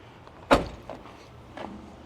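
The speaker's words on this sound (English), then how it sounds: "I'm shutting this door" The door of a 1986 Chevy C10 pickup swings shut with one sharp, solid slam close by, followed by a couple of faint rattles and knocks as it settles.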